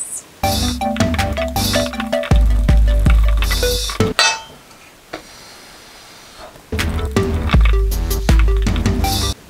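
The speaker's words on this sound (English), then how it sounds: "I'm just gonna use a fork and beat the ingredients." A fork beats chocolate chip cookie dough ingredients in a bowl, giving quick, clattering clinks in bursts. The beating stops for a quiet stretch in the middle, then the busy scraping and tapping resume.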